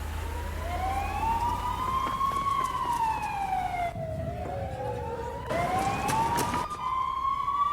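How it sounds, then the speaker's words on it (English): An ambulance siren wails loudly and continuously, rising and falling in long sweeping tones, with a low rumble of traffic underneath and no talking. "Exclusive video of Mike Morse chasing an ambulance"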